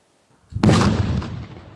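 Seized improvised explosive devices are blown up in a controlled detonation by a bomb squad near Catania: one heavy, booming blast hits hard, then rumbles and fades slowly, heard alone.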